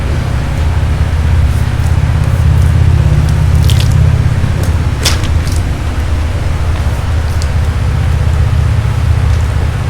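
Water is poured over a soapy pony to rinse it, a continuous close splashing and trickling stream with brief wet squishes, heard alone without talk.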